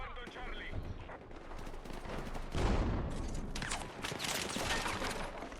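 Gunfire and explosions from the shooter game Battlefield 6, a dense, continuous barrage of shots with heavier blasts, including a loud burst near the middle, under intermittent voices.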